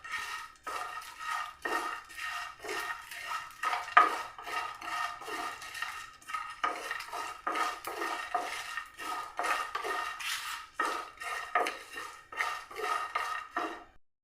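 Cinnamon, cloves and cardamom are dry-roasted together in a pan for chicken masala. A utensil scrapes and stirs against the pan in a quick, repeated rhythm of short strokes, close and moderately loud, with no speech.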